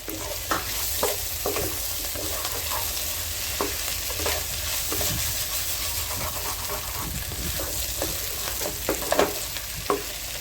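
Squid chilli fry sizzles steadily in a pan while a utensil stirs and scrapes it in irregular clicks, close and fairly loud, with no talking.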